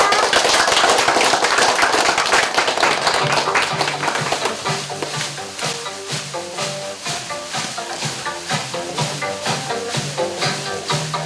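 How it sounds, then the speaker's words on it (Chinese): A live audience bursts into sustained applause at a Chinese stage event, loud and dense at first, then settling into steady clapping as music with a rhythmic beat rises underneath. "那先掌声鼓励他们一下好吗"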